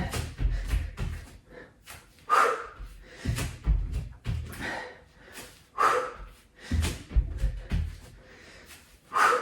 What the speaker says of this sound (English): Nice noisy exhales